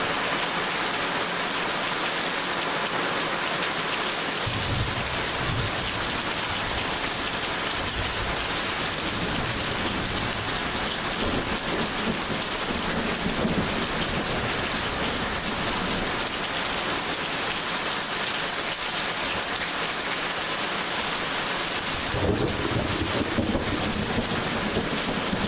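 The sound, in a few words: heavy rain with thunder during a thunderstorm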